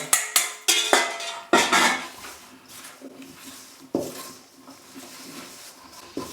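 A spoon stirs a yeast mixture into flour for pide dough in a bowl. It makes a series of sharp clinks and knocks against the bowl, then softer scraping and patting as the mixing slows.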